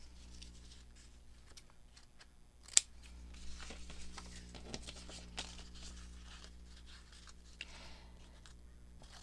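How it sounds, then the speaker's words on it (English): Scissors snip through paper to cut out tag shapes for a faux envelope flip pocket tag, with a sharp snip near the start and several softer cuts and paper rustles following, faint and close over a low background hum. "Let's cut these into tag shapes."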